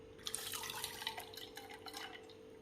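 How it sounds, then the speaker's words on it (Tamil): Water drips and trickles from boiled dried red chillies being strained, a faint run of small irregular drips over a low steady hum. "இதை நல்லா வடிகட்டிக்கலாம்."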